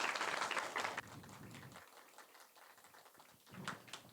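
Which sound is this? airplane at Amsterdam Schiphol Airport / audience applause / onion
audience applause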